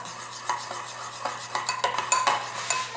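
A spoon stirring vanilla extract into chocolate muffin mixture in a bowl, close clinks and soft scraping strokes in an irregular rhythm, growing a little busier toward the end, no talk.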